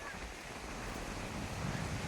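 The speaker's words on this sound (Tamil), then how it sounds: "சரியான காற்று பேய் காத்து அடிச்சுக்கிட்டு இருக்கு" Strong wind gusting steadily through a wooded coastal area near the sea, a dense, continuous roar with broadband rush and low rumble, loud and unbroken throughout.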